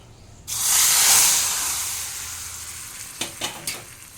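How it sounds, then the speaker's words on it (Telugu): A sudden loud sizzle as a hot tempering of dried red chillies and curry leaves hits ginger rasam, hissing strongly then fading, followed by a few light clinks of a utensil against a pot. "ఈ తాలింపుని రసంలో వేసేసుకోవాలి"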